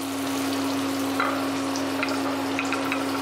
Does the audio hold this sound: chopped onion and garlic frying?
yes